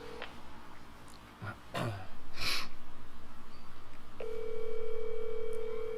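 A telephone call rings out, heard through the handset: scattered breathy noises at first, then a steady electronic tone that settles in and holds for the final seconds.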